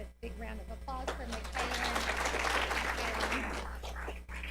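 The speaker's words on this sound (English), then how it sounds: "So let's give a big round of applause for" Audience applause at a school board of education meeting, steady dense clapping that swells after a brief spoken lead-in and holds for several seconds over a constant low hum.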